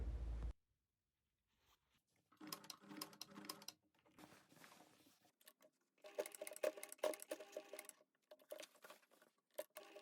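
A sewing machine stitching a wrap skirt, running in short irregular bursts of rapid mechanical patter with pauses between, fairly quiet and close, no talking.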